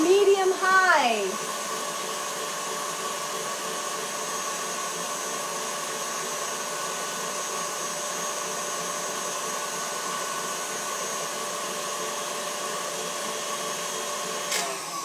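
An electric mixer with a whisk attachment running at medium-high speed, whipping a mixture in a home kitchen; a steady, loud, even whir holds throughout, with a brief louder start and no talking.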